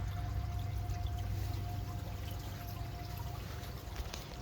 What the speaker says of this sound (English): I have it actually dripping through each individual plant